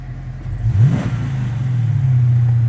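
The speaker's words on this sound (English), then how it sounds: "Give you a little blip of the throttle for you." A 2012 Dodge Challenger SRT gives a single loud throttle blip, the engine note rising sharply and falling back to a steady, close idle.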